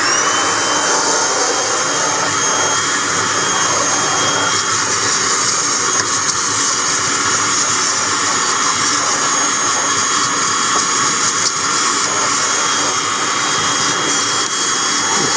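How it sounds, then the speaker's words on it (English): A small teacup vacuum motor whines steadily and loudly at close range, with a high-pitched hum that stays constant throughout, no voices. "So here's a little teacup vacuum right here."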